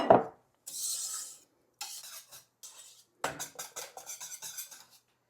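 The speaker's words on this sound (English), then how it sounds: "I'm slowly going to add these eggs into this mixture" A utensil working eggs into a mashed potato mixture in a dish, soft scraping and stirring strokes in short bursts with pauses, close but quiet, alone without talk.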